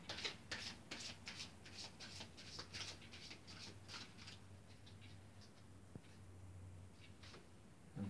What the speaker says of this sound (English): It's pretty new, a little bit difficult to shuffle.